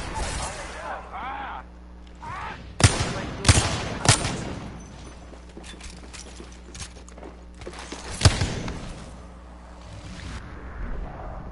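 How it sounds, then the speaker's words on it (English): Enemy gunfire in the video game Apex Legends: several loud separate shots burst out at irregular intervals over steady game ambience, with voices talking in between. "I am taking fire. The enemies are shooting at me."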